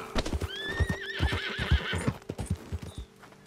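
Horses in Red Dead Redemption 2 neigh in a long rising-falling whinny over a steady run of loud, close hoofbeats that pound rhythmically throughout.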